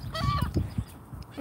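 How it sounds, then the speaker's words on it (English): Seagulls squawking and honking close by as they try to snatch pizza outdoors, several harsh calls in quick succession at moderate volume, with no talking. "I'm being attacked by seagulls."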